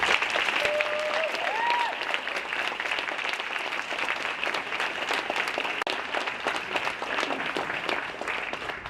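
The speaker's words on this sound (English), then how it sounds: "please just give a big round of applause for all the attending teams" Sustained audience applause for the attending rocket teams at a rocket launch competition's closing ceremony, dense steady clapping from a large crowd filling the whole stretch, with a faint voice briefly audible early on.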